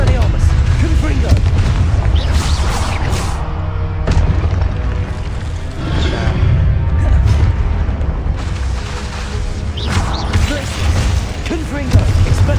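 Explosive spell blasts from the Hogwarts Legacy game, heavy booms and rumbling impacts recurring throughout, loud and dense under a constant mix of game effects and voices.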